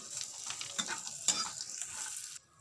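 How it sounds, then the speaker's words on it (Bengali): Cashews and raisins frying in ghee in a pan, a steady close sizzle with a few sharp crackles and light stirring, ending abruptly, with no voices. "এবার এই ঘিয়ে আমি কাজু আর কিশমিশগুলো ভেজে নেব"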